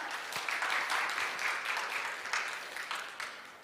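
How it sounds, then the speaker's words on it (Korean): Audience applause welcoming a speaker to the stage at a Korean food and restaurant industry outlook conference, a steady wash of many hands clapping for a few seconds with no talk. "여러분, 큰 박수로 맞이해 주시기 바랍니다."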